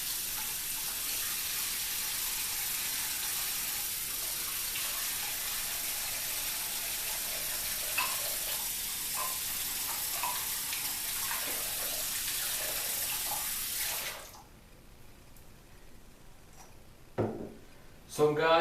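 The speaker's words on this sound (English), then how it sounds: "after the shave, you want to rinse your brush" Water from a running tap pours steadily and loudly while a shaving brush is rinsed, with faint talk in the background; the flow cuts off near the end, followed by a few brief knocks.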